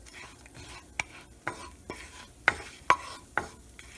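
Cloves and cardamom are stirred in a pan, a low soft sizzle under sharp spoon clicks and scrapes that land roughly every half second, quiet and close, with no voices.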